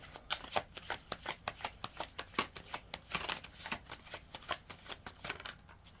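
A deck of tarot cards is shuffled by hand close up, with a quick run of crisp riffling flicks and soft slaps at an uneven rhythm, heard alone and fairly quiet.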